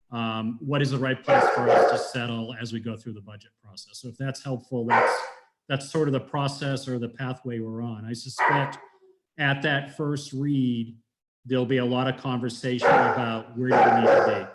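A dog barks in the background of a town council meeting held over a call, heard intermittently beneath continuous close speech from one man.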